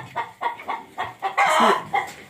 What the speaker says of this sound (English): She's announcing she's going to go lay her egg.